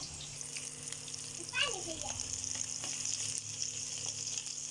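Chopped onion and garlic frying in oil in a home kitchen, a low, continuous sizzle heard close up, with a voice briefly audible in the background.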